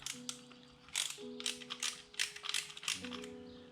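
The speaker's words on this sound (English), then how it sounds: "Mine's a ratchet" A ratchet screwdriver tightens a screw while a Jackson Kayak rudder is being installed: faint, close, quick ratcheting clicks in short bursts with brief pauses between strokes, no voices.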